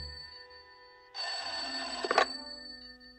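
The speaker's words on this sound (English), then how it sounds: "Sounds like the phone to me." A telephone bell rings in a single burst of about a second, fairly loud and close, with a brief sharper clatter near its end, in an otherwise quiet room with no talking.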